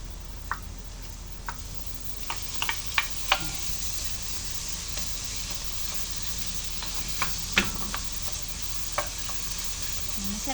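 Bacon sizzles steadily in a pan with softened onions as part of a lasagna, a constant close frying hiss with occasional sharp ticks and pops from stirring.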